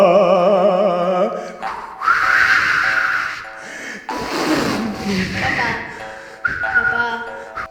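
A man whistles a wavering, melodic tune at close range, breaking off between phrases, while other voices talk and interject around him.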